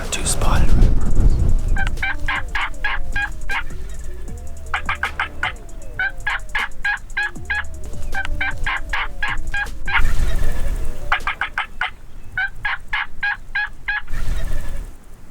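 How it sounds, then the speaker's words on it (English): Wild turkeys gobbling in a Texas spring hunt setting, loud repeated rattling gobbles in several bursts close by, with faint talk at moments. "We're about to be all upon some turkeys."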